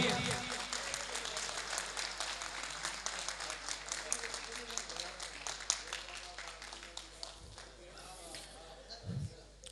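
Crowd applause fills a ceremony honouring an IPS officer, principal of the Junagadh police training college, with dense, sustained clapping from many hands that thins out toward the end, fairly faint and distant.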